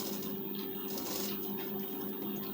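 A sewing machine runs steadily without pause, sewing a loose basting stitch on a lined blouse. The motor hum is close and even, with no talking over it.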